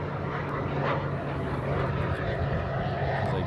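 An aircraft engine roars steadily and fairly loud at Honolulu airport as a plane comes in along the runway, a continuous broadband rumble with no talk.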